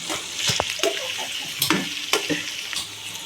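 Fried onions with biryani masala are stirred in hot ghee in a pan, a soft sizzle broken by several close spatula scrapes and clinks at an uneven pace, with no talking.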